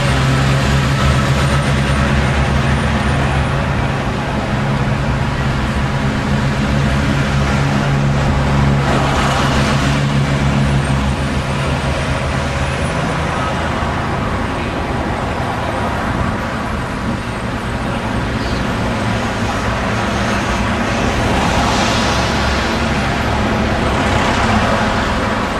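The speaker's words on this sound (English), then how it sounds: "Traffic and pedestrians are very busy around here" Busy street traffic outside Buckingham Palace in London, a dense steady roar of passing cars, buses and engines with low rumble throughout, continuous and fairly loud with occasional swells as vehicles go by.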